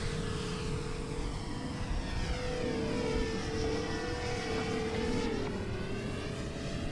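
A Freewing de Havilland Mosquito RC model plane passes in a fast flyby, its steady electric motor whine holding a constant pitch that bends slightly as it passes, with broadband wind and outdoor noise underneath.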